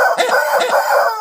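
Roosters crow loudly and close by, several harsh, ragged calls overlapping in quick succession and filling the whole stretch with no pauses.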